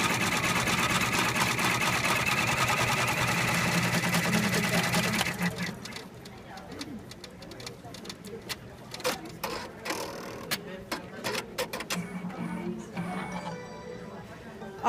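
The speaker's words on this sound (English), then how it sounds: "we're done embroidering over the craft foam" An embroidery machine satin-stitches over craft foam on a hat, first a dense, loud steady whir for about five seconds, then slowing into irregular rapid stitching pulses with mechanical clatter.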